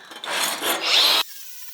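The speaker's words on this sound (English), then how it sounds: "Scotch-Brite pad from Benchmark Abrasives on a soft back. Perfect for cleaning up mill scale." An abrasive Scotch-Brite pad on a soft backing pad, likely on a power tool, scrubs mill scale off steel, a loud steady rubbing roar lasting about a second before cutting off abruptly to quiet.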